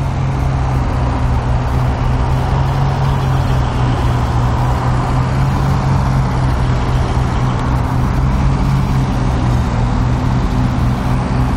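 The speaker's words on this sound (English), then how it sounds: "as the very moment I set up the camera, a tractor will come along." A tractor runs nearby with a loud, steady engine drone and a low humming tone that holds for the whole stretch, without a clear rise or fall.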